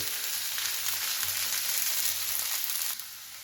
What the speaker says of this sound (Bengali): এবার এর মধ্যে দেব পেঁয়াজটা। পেঁয়াজটা যখন হালকা ভাজা হয়ে যাবে